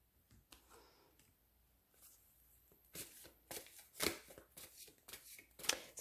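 Tarot cards are cut and shuffled close by, starting with a few soft scattered ticks and then turning into denser, quick papery riffling bursts in the last few seconds, with no speech.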